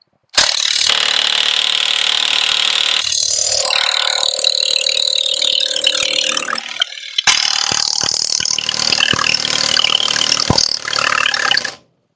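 An impact wrench with an impact socket loosens a rusted bolt on a 1967 Lincoln, hammering in loud sustained rattling bursts with a short pause between runs, close up and without talk.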